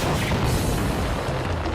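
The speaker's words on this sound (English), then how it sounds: "This looks like an explosion effect that I would edit in." A loud, sustained explosion effect from the TV show Monster Warriors: a dense rumbling boom that fills the whole stretch at steady volume without letting up, heard alone with no voices over it.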